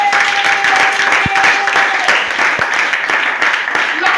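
A church congregation applauds through a French-language service, a steady dense wash of clapping with a few sharper claps standing out, close and loud, mixed with crowd noise.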